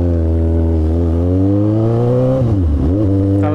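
A Suzuki GSX-S750 motorcycle fitted with a short exhaust pipe, ridden out after maintenance: a loud, close, deep engine drone that climbs steadily in pitch, then dips and swells again as the throttle is rolled off and reopened.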